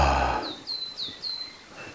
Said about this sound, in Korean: 새소리도 많이 들리고요